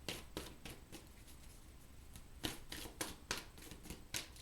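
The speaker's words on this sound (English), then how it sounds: "And one more shuffle." Tarot-style cards shuffle quietly and close by, a soft papery riffling broken by a series of crisp flicks and taps.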